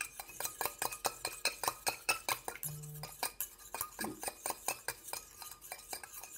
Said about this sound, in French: on va mélanger tout ça rigoureusement pour que tout se mélange